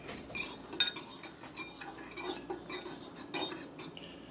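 A metal utensil mashes and scrapes food in a pan, sharp clinks and knocks in an irregular run, fairly close and moderately loud.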